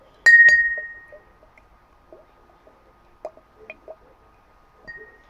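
A shot glass gives one sharp, ringing clink near the start, followed by a few small, quieter taps and clinks spread across the rest.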